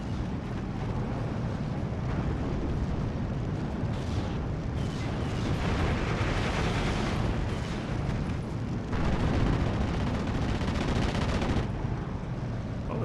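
Dense battlefield din from the Steel Division 2 war game: rapid gunfire and repeated heavy explosions rumble in overlapping bursts, loud and continuous with no letup.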